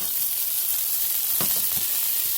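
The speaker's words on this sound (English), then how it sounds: "Now, I'm going to go ahead and start dropping in my broccoli." Broccoli frying in butter in a pan gives a steady close sizzle with a few soft stirring knocks partway through, no voices.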